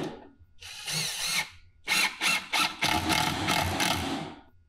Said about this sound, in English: I'm going to just put 2 screws here on a diagonal.